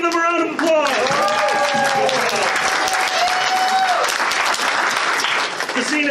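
An audience at the Fursquared 2022 convention gives a loud, sustained round of applause with whoops and shouts over it, continuing steadily throughout.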